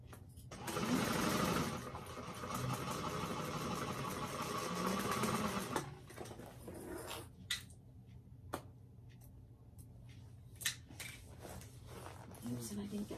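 A sewing machine stitches a Guadalupe bag in a loud, steady burst lasting several seconds, followed by quieter clicks and a few short stitch runs as someone speaks.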